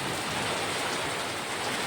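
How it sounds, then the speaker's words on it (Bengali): A hailstorm with light wind, a dense, steady hiss of falling ice and rain pattering on surfaces, continuous and fairly loud with no voices. "এই সময় শিলাবৃষ্টি, তার সঙ্গে অল্প হাওয়া।"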